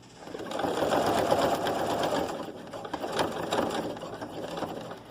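Sewing machine stitching a seam on a three-pocket fabric pouch, a steady close mechanical whirr with rapid rhythmic needle clatter, running continuously and easing slightly near the end.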